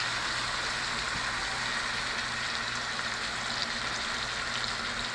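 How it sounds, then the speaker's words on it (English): Beef searing in a hot pan gives a steady, dense sizzle that stays even and close throughout, with a faint low hum underneath. "Just gonna give them a little sear."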